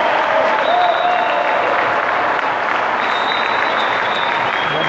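Spectators at a Serie A2 men's water polo match between Civitavecchia and Catania applaud a goal. The clapping is loud, dense and continuous throughout, with faint whistle-like tones high above it.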